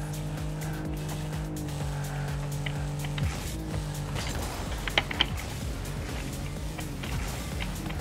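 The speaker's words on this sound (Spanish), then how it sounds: "el motor del coche se escucha súper bajo" Car engines in the Rocket League video game hum at low volume in a steady drone that shifts pitch partway through, with brief mechanical clatter and impacts over it.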